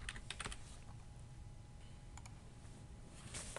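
Quick bursts of typing on a computer keyboard, rapid clusters of light key clicks at the start and again near the end, with a quieter stretch between, close and fairly soft in a quiet room.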